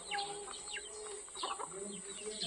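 Chickens on a grandmother's farm cluck and chirp in short repeated calls, faint and slightly distant, with steady background hiss.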